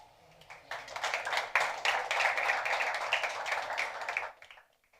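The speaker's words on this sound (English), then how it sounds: "please welcome, join your hands to clap for João Madeira, Growth at Get Vocal AI." An audience at a startup pitch event in Lisbon applauds. The clapping swells quickly into steady, dense applause for several seconds, then fades out.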